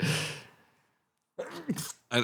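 A single sneeze bursts out loud and close at the start, then fades, followed after a short silence by a breathy exhale and a brief vocal sound.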